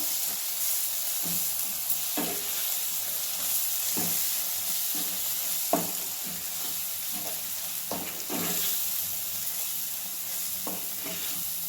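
Ginger garlic paste stirred into a frying farsan vegetable dish, a constant hiss of sizzling oil with soft, unevenly spaced stirring scrapes throughout, no talking.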